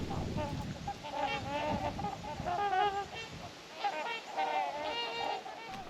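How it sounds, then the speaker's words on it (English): Geese honk repeatedly in overlapping calls by a lake in Mille Lacs Kathio State Park, Minnesota, moderately distant, over a soft outdoor background. "listen to the birds announcing their presence"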